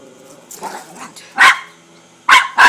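A dog barks at a cat in sharp, loud bursts, a couple of close barks spaced apart amid softer whines and rustling.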